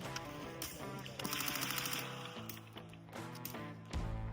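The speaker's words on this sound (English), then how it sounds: "Gotta love a full auto MP5." A full-auto MP5 submachine gun fired at a gun show booth, with rapid bursts of shots in quick succession over busy background noise.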